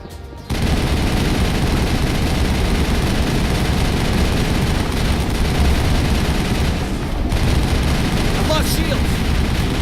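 Sustained gunfire in the video game Mass Effect, loud and close, a dense rapid barrage starting abruptly after a brief lull and continuing without break.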